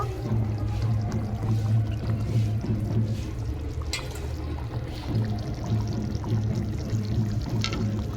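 Cooked tomato rohu fish curry is tipped from a kadai into a serving dish, giving a continuous, fairly close pouring and slopping sound of thick liquid over a low rumble, with no speech.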